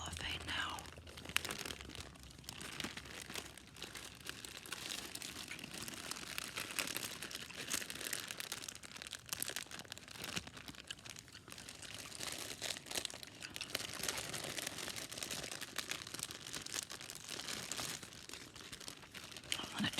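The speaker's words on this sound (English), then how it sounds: "I'm addicted to the sound of cellophane now." Cellophane wrapping around a bouquet of a dozen red roses crinkles and rustles softly and continuously up close, under quiet whispered speech.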